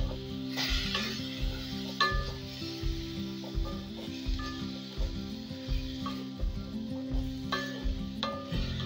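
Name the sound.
stirring and mixing a vegetable curry in a pan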